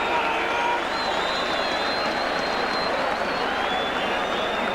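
A big Halifax rugby league crowd roars and applauds after a try in a cup match, a steady, loud wash of cheering and clapping from a large stadium audience with whistles rising above it.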